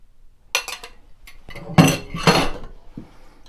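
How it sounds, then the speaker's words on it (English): Salmon cake ingredients of mashed salmon, crushed Ritz crackers, lemon and beaten egg are stirred in a bowl, with a few close clinks and scrapes of a utensil against the dish in separate bursts. "Now we're going to commence to mix in."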